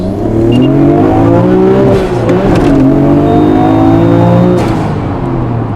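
A Nissan Skyline R34 GT-R with an HKS titanium exhaust revs loudly and steadily, its pitch rising and falling in smooth waves, with a raspy exhaust tone and no talking.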